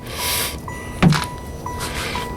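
A car door on a 1994 Impala gives a single sharp thunk midway, with softer mechanical clicks and rustling around it, close by and alone without talking.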